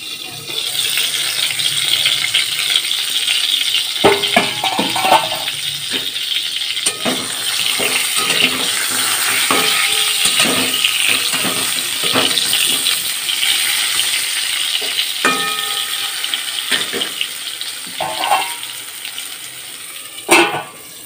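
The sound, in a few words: frying pointed gourd (potol) in a pan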